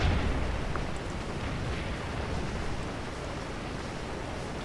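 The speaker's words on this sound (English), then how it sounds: "I'm going to get the artillery out." Artillery fire in the battle game Scourge of War makes a dense, continuous, rumbling roar that stays loud and even throughout, with no talking.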